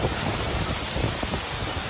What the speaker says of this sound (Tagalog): Sa sobrang lakas ng ulan, halos wala nang naaninag sa paligid.